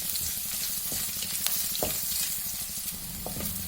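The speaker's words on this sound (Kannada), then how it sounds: "ಟೊಮೊಟೊನು ಹಸಿ ವಾಸನೆ ಹೋಗಿ ಚೆನ್ನಾಗಿ ಫ್ರೈ ಆಗಬೇಕು." Onions and tomato fry in a pan, a steady close sizzle broken by occasional stirring clicks and scrapes, no voices.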